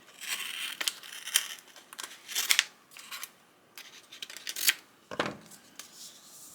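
Scissors snip and trim a rhinestone vinyl transfer sheet in several short crisp cuts with crinkling of the sheet, close and fairly quiet, with no talking.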